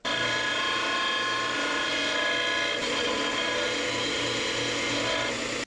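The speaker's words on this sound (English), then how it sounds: "I think I'll use my bench grinder since I got her." A bench grinder shaves down a metal part from an S-10 pickup's rear axle work. It produces a loud, continuous motorized whine with a steady mechanical hum that runs for several seconds, then cuts off abruptly.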